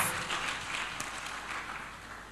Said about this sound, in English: This is another round of applause